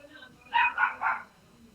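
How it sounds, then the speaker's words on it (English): Newly arrived puppies let out three quick high-pitched yips in a row, fairly close but not loud, over a low background hum. "More puppies have arrived."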